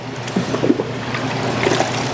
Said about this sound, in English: Dump the rest of my soapy water in.